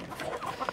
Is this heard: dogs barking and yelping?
no